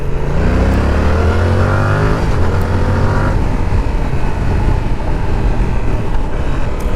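A small sport motorcycle engine revs hard and close, pitch climbing through the gears before settling into a loud, steady drone.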